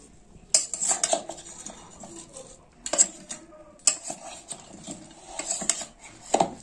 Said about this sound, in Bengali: এবার আমি কপিটাকে ভালো করে মেখে নেব মশলা দিয়ে।